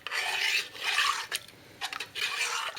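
A spoon scrapes and rubs around a bowl while stirring water and yeast for Swedish cinnamon buns, making three or four rhythmic rasping strokes, close and fairly loud with no talking.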